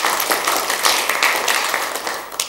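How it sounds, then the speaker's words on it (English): A seminar audience claps for a participant, a dense close burst of many hands that holds steady and thins slightly toward the end. "Let's give them a big clap."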